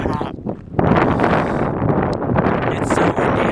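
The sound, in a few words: strong wind blowing outdoors in California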